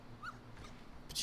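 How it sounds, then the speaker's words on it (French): A small dog in the Blade and Soul video game gives a short high whimper, faint, over quiet game ambience, followed by a brighter sparkling chime at the end. "Petit chien?"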